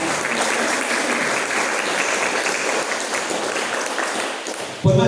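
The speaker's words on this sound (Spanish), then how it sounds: "¿Cuántos le dan un aplauso al Señor?" A church congregation claps together for the Lord in a loud, sustained burst of applause that stays even for several seconds, then ends abruptly with a single sharp thump at the close.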